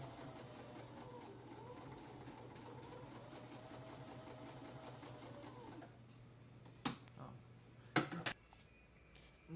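A sewing machine runs steadily as it stitches a diagonal row across a prayer quilt, a fast even mechanical whir with rapid needle ticks that stops partway, followed by a few sharp clicks and handling knocks.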